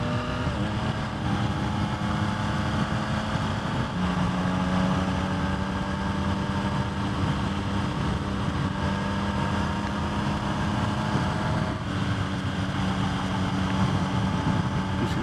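A 2023 Yamaha XSR 900 motorcycle on new tires holds a steady engine drone through a series of corners, the pitch stepping with gear changes under constant wind rush, continuous and close without pauses.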